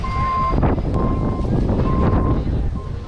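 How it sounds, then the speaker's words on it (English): Strong gusting wind buffets the microphone continuously on a walking tour of Aruba's cruise port shopping area, a steady roar with a faint repeating beep in the background. "It's windy."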